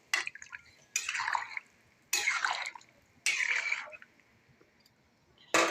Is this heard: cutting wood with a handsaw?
no